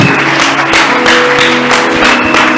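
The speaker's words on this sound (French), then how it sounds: "On acclame pour notre Seigneur" A church congregation at a Sunday service in Kinshasa applauds together, a loud, sustained wash of clapping from many hands filling the room close by, with music or voices faintly beneath.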